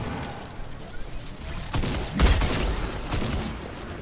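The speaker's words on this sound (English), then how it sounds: "We're being shot at, Joe." Fortnite gunfire crackles as rapid bursts of shots under players' chatter, peaking in a heavier burst midway and continuing in scattered pops.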